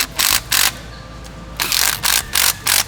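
A hand ratchet clicks in quick bursts as bolts on an oil separator are snugged down in a cross pattern on a 2021 VW Tiguan. It is close and sharp, with a short pause in the middle, and nobody talks.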